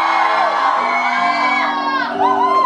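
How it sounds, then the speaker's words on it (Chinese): Concert audience screaming and cheering at a music show, a loud, sustained wall of high shrieks and whoops from many voices that swells again near the end. "很多很多，尖叫一下。"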